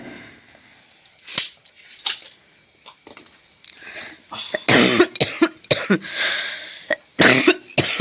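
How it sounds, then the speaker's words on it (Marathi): Repeated coughing fits, close and loud, in clusters of sharp broadband bursts with brief pauses, the heaviest burst midway through. "खोकला लागला मला"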